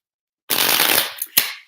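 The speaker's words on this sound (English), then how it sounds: "All right, one more shuffle." A deck of tarot cards is riffle-shuffled in one quick burst of rapid fluttering snaps, followed by a sharp slap as the cards come together, close and loud after a moment of silence.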